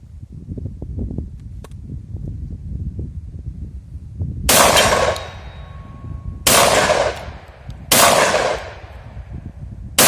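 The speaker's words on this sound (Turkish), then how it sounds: "Arkadaşlar Armsan RSA2 ile atışlarımıza devam ediyoruz." Three loud, close blasts from an Armsan RS A2 shotgun ring out a couple of seconds apart, each followed by a brief echoing tail, over a steady low background rumble, with no talk.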